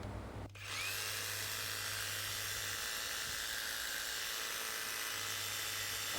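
A DongCheng cordless brushless jigsaw runs with its trigger locked, a loud, steady high-pitched motor whir that starts abruptly after a brief quiet moment and holds constant, close by, with no talking.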